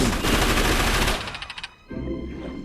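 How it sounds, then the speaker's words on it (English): Machine gun fire from the movie Shanghai Knights, a loud, sustained rattling burst that cuts off after about a second, followed by a few scattered sharp cracks and a quieter rumble. "Oh, the machine gun!"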